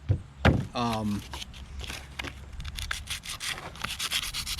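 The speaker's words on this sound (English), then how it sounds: "So some very light 100 grit sanding is what I'm going to do right now" Light 100 grit sanding on a forged troy-ounce silver bracelet, quick repeated scratchy strokes close up, following a brief voice near the start.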